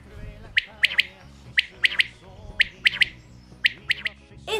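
A quail calls in clear, sharp three-note phrases that repeat four times at an even pace, each bright burst standing out over a soft musical backing.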